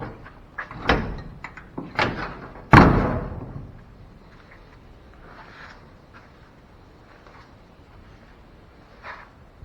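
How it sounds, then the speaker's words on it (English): The door of a rusted 1957 Chevy truck, left in a field for decades, slams shut with a few loud metallic clunks and bangs, followed by quieter faint rattles and settling sounds. "this door still doesn't shut terrible"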